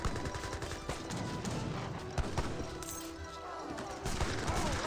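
Gatling guns firing in an Age of Empires 3 battle, a steady stream of quick, crackling shots layered with other battle clatter, moderately loud and continuous from start to end.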